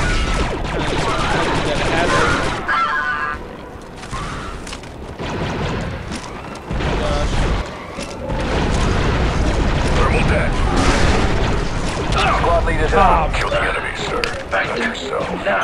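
Clattering blasts and gunfire from combat in Republic Commando, loud bangs and mechanical rattles among droids, with squad voices calling out over the noise.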